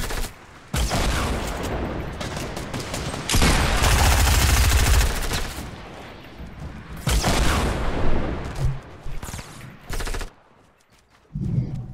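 Rapid automatic gunfire and heavy blasts, including a rocket shot, in an online hill-fight shooter game, dense loud bursts with short lulls between volleys.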